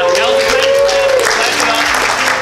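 A crowd claps steadily at a Warhammer 40k tournament, dense applause filling the room, with a voice speaking over it.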